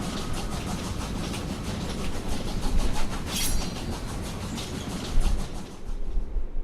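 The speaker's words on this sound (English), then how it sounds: "I love how this train just came to life" A train rolls along in the video game Killer is Dead, with a rhythmic clickety-clack of wheels over rail joints and a steady rumbling roar. The sound is continuous and fairly loud, with no voices.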